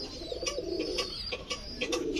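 Native pigeons on a pigeon farm coo in soft, repeated throaty calls close by, overlapping in a gentle rhythm with a faint background hum.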